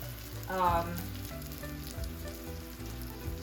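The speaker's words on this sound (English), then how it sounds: "I'm just gonna wait for the other side to finish frying up" Quiet, steady sizzling of shrimp tacos frying in hot oil, with soft crackles and pops throughout and no speech.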